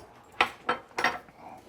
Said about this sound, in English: Now let me get a spoon for each and I'm going to mix that in.